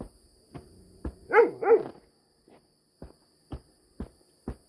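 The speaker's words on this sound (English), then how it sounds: "She's been barking a bit since the sun went down." A dog gives a few short barks close by, a pair of louder ones in the middle, then scattered softer yips and thumps in a quiet space.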